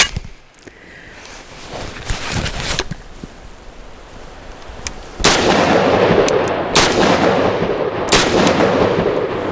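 A large-format handgun fires several sharp, loud shots, spaced irregularly, each with a sudden crack and a short decay, with a sustained louder rumble after about the midpoint.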